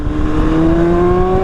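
From a motorcycle on the road, an approaching vehicle's engine builds as a rising, whirring tone over steady road and wind rumble, loud and close.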